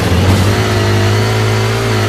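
A motorcycle engine in Halo 4 revs hard and loud, a sustained droning roar with a steady pitch that dominates throughout.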